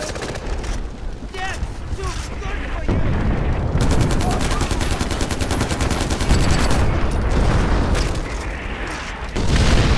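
Heavy artillery barrages in the Far Cry 4 video game boom and rumble continuously, with dense bursts of gunfire layered over them and loud blasts building near the end; frantic shouted voices break in over the din.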